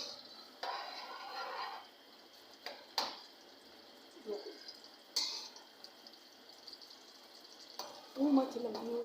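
Onions frying in oil in a pan for mash daal, a quiet, intermittent sizzle with soft stirring knocks and a few sharper clinks, separated by near-silent gaps.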